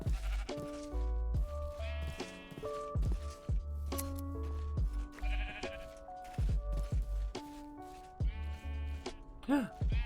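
Sheep bleating in the Minecraft video game, several short repeated bleats over a game music background with harmonic tones, moderately loud and close, with occasional soft footsteps.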